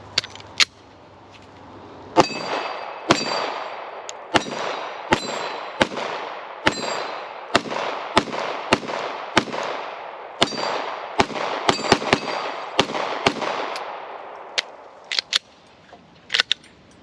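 A Glock pistol fires round after round during a magazine water test, each shot a sharp, ringing crack spaced about a second apart, with a quicker cluster near the end and no talking.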